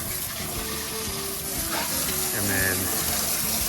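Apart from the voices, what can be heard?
water spray hosing out a 1977 Tarva jet boat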